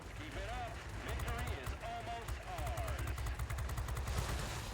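Rapid bursts of cannon fire from an Arado Ar 197 biplane in a video game, repeated in quick rhythmic volleys over a busy mix of engine noise and game effects.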